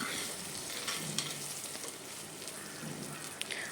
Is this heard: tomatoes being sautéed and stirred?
yes